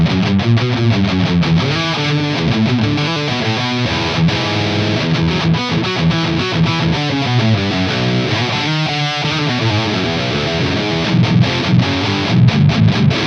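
A distorted electric guitar plays through a Mesa 4x12 speaker cabinet with low gain and a boomy, loose bottom. It churns out steady rhythmic chords and palm-muted chugs for the whole stretch, loud and unbroken.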